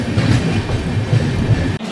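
Loud, continuous rumble of a passenger train running near Ghaziabad, heard from on board, with steady rolling wheel noise and faint rhythmic clatter throughout.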